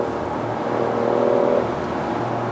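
A 2019 BMW i8 Roadster with a 1.5-liter three-cylinder hybrid engine in sport mode, a low steady engine hum that swells briefly into a smooth rev before settling, heard from the cabin.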